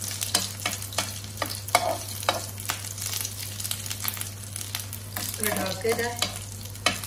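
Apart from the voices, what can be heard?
rice kebabs frying in oil in a pan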